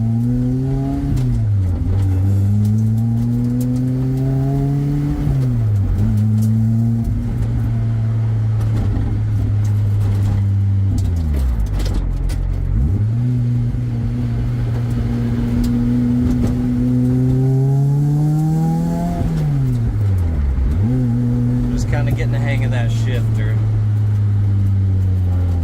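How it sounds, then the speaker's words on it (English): A 2008 Lotus Elise track car on a quick test drive, its engine revving up through the gears in repeated rising pulls with brief dips at each shift, loud and close from inside the cabin. "Okay, we're going on a quick test drive here."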